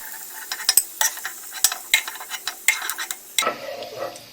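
Water chestnuts shallow frying in ghee, a soft sizzle punctuated by sharp clicks and scrapes of a spatula stirring the pan, with a brief louder hiss near the end.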